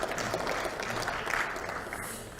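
Applause from a crowd of party members at a Liberty Korea Party political gathering, steady dense clapping lasting throughout, fairly loud and continuous with no clear talk over it.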